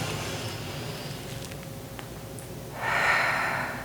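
A deep inhale during a yoga vinyasa flow: a faint quiet stretch, then a loud, close breath drawn in through the nose that swells and fades over about a second near the end.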